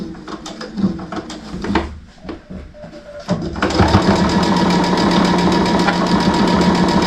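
Sewing machine making a short back stitch on a simple drawstring bag, a few hesitant mechanical clicks before the motor settles into a loud, fast, steady whirring run.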